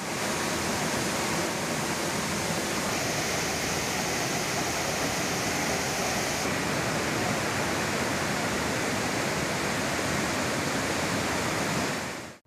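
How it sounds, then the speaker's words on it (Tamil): Courtallam waterfalls in Tenkasi district in flood after heavy rain: a dense, steady roar of rushing water, loud and unbroken throughout. "தென்காசி மாவட்டத்தில் கனமழை பெய்து வருவதால் குற்றால அருவிகளில் 2 வெள்ளப்பெருக்கு நீடிக்கிறது."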